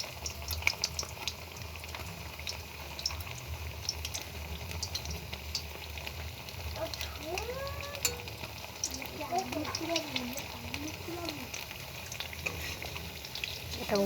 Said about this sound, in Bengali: লো ফ্লেমে যদি ভাজেন তখন কাঁচা কলা যে ভেতরটা সিদ্ধ হয়ে যাবে